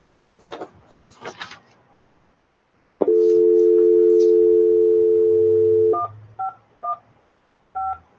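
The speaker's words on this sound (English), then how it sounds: "Forgot to dial in the conference line." A telephone dialing into a conference line: a few soft handling clicks, a steady dial tone lasting about three seconds, then a quick series of short touch-tone keypad beeps, no talk.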